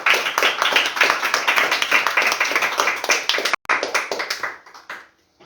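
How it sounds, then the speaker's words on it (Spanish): A church congregation claps hands loudly in a fast, steady rhythm of dense overlapping claps, breaking off briefly near the end and then fading out. "Dale fuertes palmas al Señor"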